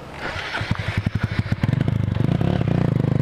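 Small motorcycle on a dirt outing revs and accelerates, its engine rising from uneven sputtering into a fast, steady buzzing clatter, close and loud with no talk.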